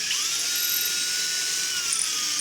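A drill boring holes in a wooden gun stock runs continuously with a high, buzzing whine and a slight rattle despite not being on hammer mode, close and steady throughout.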